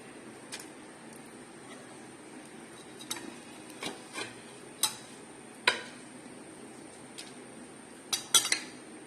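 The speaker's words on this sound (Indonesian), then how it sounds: "Terus diaduk-aduk ya teman-teman biar nggak gosong bawahnya" Sticky rice (glutinous rice) cooking with sugar in a pot is stirred, giving scattered scraping knocks and metallic clinks of a utensil against the pot over a quiet hiss.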